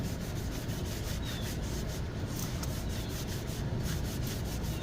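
A cloth soaked in rubbing alcohol rubs across a brake rotor on a 2009-2014 Ford F-150 3.7L, giving a steady close rasping scrub with no pauses.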